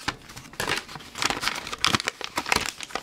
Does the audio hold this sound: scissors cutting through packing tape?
yes